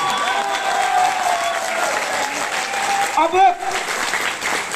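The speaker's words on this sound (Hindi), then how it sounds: "आलोक तोमर जी के लिए ताली बजाओ जोरदार यार।" Applause from a seminar audience at a leadership and mindset talk, a steady sustained clatter of clapping hands filling the room, with a voice speaking over it.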